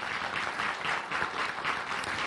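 An audience at a culture forum held at the Dom Kultury in Rybnik-Niedobczyce claps steadily in a soft, even patter that lasts throughout, with no voices on top.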